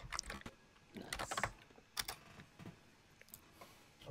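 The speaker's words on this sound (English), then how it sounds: "Apologies if you can hear my keyboard." Someone types on a computer keyboard during an online game session, producing quiet, irregular bursts of key clicks with short pauses between them.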